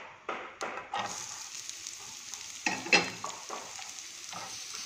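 Onion sautéing in ghee in a pan, a soft continuous sizzle broken by several sharp stirring clacks and scrapes, close and moderately quiet.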